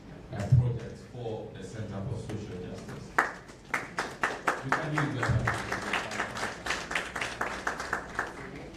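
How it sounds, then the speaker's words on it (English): An audience at a national policy dialogue on financial inclusion welcomes a speaker with scattered clapping that grows into steady applause, following a stretch of talk and low room noise. "Let's welcome with a round of applause Ms. Priska Ansa."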